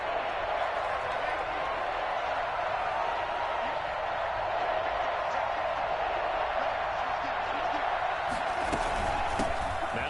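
Football stadium crowd before a third-down play late in the game, a continuous wash of roaring voices and cheers filling the whole stretch, steady and loud from a distance, with a commentator talking over it.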